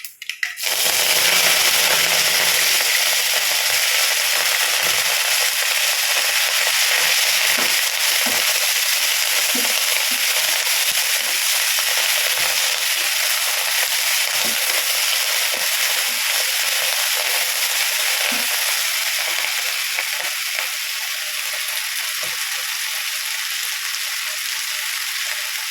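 Chopped spinach frying in a hot pan gives a loud, steady sizzle that runs the whole time, with scattered light clicks and scrapes from stirring on top.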